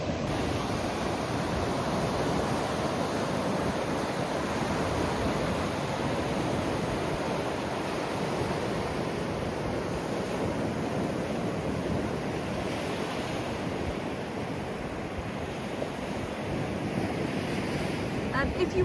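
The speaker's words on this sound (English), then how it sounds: "Beautiful surf coming in." Surf rolls in on the beach at Benidorm on a breezy day, a continuous broad wash of breaking waves with wind buffeting the microphone, steady and fairly loud.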